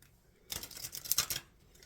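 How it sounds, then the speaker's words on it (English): An oracle card deck is shuffled by hand: a quiet pause, then about a second of crisp, papery riffling and flicking cards, close and distinct, before it fades back to near silence. "let's shuffle this oracle deck"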